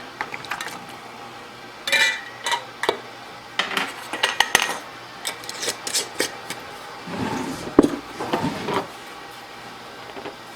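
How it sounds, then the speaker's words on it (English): A filled glass jar of homemade lemon-lime spread set down into a hot canner, clinking and knocking against metal in a string of sharp, close taps and scrapes with short pauses between, no talk. "So first one done, and in the hot canner it goes."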